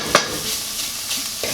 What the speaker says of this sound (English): you want to keep scraping because you don't want it to stick to the bottom and burn